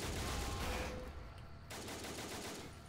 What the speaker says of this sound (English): Can you stop shooting me with that?